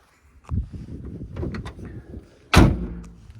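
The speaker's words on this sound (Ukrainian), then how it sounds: "Дверки також гарно закриваються." The door of a 2010 Renault Trafic van with a 2.0-litre 115 hp engine shuts with a loud, close thud near the end, after softer handling and rattling sounds.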